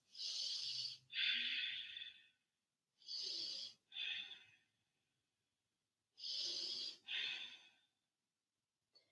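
Breathing during a yoga crescent lunge: three paired rounds of close, airy inhales and exhales, each a breathy rush separated by short silences.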